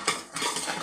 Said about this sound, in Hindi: और जल्दी से इसको अच्छी तरह हिला देंगे।